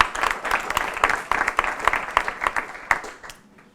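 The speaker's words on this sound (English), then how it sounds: "Please give her a round of applause as well." Summit audience applauding for a few seconds, a dense patter of indoor hand claps with a few sharper individual claps, tapering off at the end.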